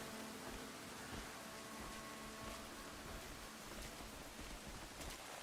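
Rain in a video game, a dense, even hiss of steady downpour filling the whole stretch without a break, heard alone with no voices.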